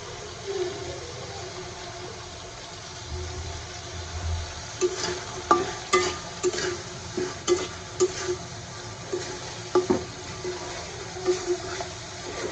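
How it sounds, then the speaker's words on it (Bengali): A spice paste of cumin paste, garlic paste, coriander powder and salt sizzles in a pan for a Bengali dish, with steady frying hiss under a run of rhythmic scraping stirs that grow louder toward the end. "মশলাটা ভালোভাবে কষায় নিলাম রসুন আমি দিয়ে দেবো"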